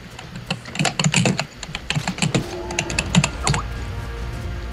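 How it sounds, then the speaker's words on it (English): Loud computer keyboard typing comes in quick clattering bursts of keystrokes, close and crisp. A short pause falls partway through, and the typing continues unevenly until it fades near the end. "That's amazing keyboard."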